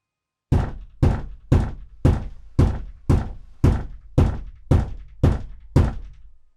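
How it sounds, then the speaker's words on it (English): Eleven loud, heavy thuds on a bedroom door at night at a steady, slow rhythm, each booming knock ringing briefly before the next. "there's loud bangs on the bedroom door"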